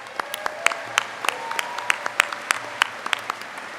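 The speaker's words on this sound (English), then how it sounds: "Can we give them a round of applause?" A commencement audience at Denison University applauds the Class of 2025 graduates, with sharp individual hand claps standing out near the front over a softer, steady bed of crowd clapping.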